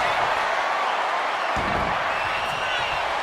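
Arena crowd noise in the WWE 2K25 video game, fans roaring and cheering for Charlotte Flair during a Last Woman Standing match against Jade Cargill; a steady, loud wash of crowd sound with a low thump midway.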